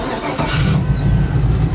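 A car engine cranks and fires up from warm, then settles into a steady, even idle that carries on alone at close range.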